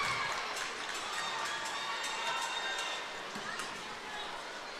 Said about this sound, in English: Big cheer coming through the crowd for Owen there.